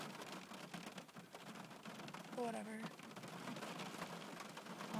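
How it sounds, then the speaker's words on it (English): Steady rain patters throughout with dense broadband hiss, while a voice speaks briefly near the start and a short whine rises midway. "Do you hear that rain?"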